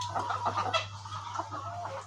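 Several layer hens, suffering from fowl cholera and colds, cluck and murmur nearby in overlapping bursts, over a steady low electrical hum.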